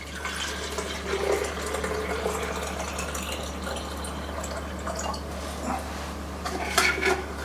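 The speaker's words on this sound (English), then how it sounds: "I'm just going to pour some of these, just spread it out amongst these bottles." Liquid is poured into a row of bottles at a kitchen plating station. A steady trickling stream runs under light clinks of glass, dishes and utensils, with no talk.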